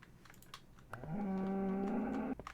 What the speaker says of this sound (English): Come on, cow, you better move.